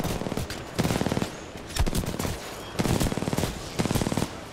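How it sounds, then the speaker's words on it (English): Gunfire in Titanfall 2 rips out in loud, rapid automatic bursts, about five of them separated by short pauses, with no talking over them. "This gun sounds so badass, dude."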